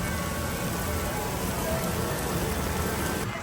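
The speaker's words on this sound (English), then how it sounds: "there's the rain right over there. Oh, now it's really coming down." Heavy rain pouring down outdoors at a theme park, a dense, loud, continuous hiss of drops hitting the ground and surfaces, steady throughout with no letup.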